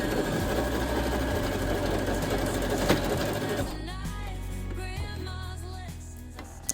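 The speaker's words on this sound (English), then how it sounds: "I finally had the front sewn together, and now I'm sewing down the back." A sewing machine stitches a garment seam in a steady, close mechanical whir, then stops partway through as a person begins talking.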